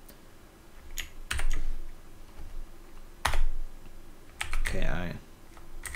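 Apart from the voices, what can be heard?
typing a password on a computer keyboard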